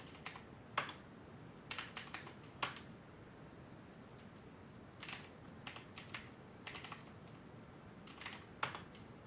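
Quiet bursts of typing on a computer keyboard, short clusters of soft clicking keystrokes separated by brief pauses, close and faint.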